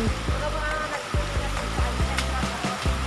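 A river rushes below a bridge at Asin, Nangalisan, Tuba, Benguet. The water gives a dense, steady roar, with voices talking faintly in the background.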